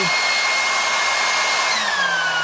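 A steady, loud motorized whoosh of a Garden Gear 20v cordless leaf blower running, with a faint whine that shifts slightly in pitch partway through as it steps between speeds.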